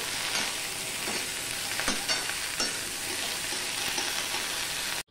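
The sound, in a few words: okra frying and being stirred in a pan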